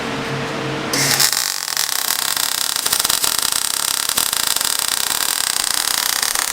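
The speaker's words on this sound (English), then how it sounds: "We're just welding up my exhaust mount now" Welding on an exhaust mount of a Nissan 350Z drift car starts with a sudden onset, then a continuous harsh, crackling buzz with rapid sputtering pops at close range.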